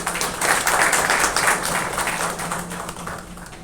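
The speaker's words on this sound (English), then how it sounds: "With a big round of applause" An audience at a Kauvery Hospital event in Radial Road gives a round of applause, with dense, lively clapping that stays strong and then thins slightly toward the end.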